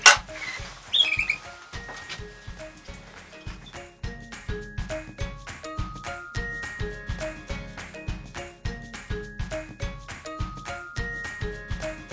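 Border canaries feeding on egg food, scattered bright chirps over a run of rapid clinks and taps from dishes or feeders, close and busy throughout.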